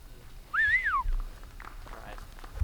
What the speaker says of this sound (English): Got a whistle from the crowd.